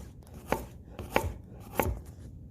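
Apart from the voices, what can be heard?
knife chopping carrots on the bias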